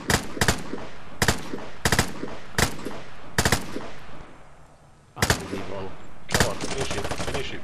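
Bursts of automatic gunfire from the video game Vigor, aimed in headshots at a car: sharp, loud, evenly spaced shots in quick volleys, a short lull, then a final rapid string, with voices in between.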